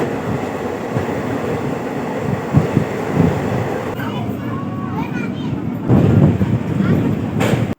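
A passenger train near Alamatti station rumbles along with steady wheel and carriage noise and a few louder surges. Voices of people aboard talk under the din.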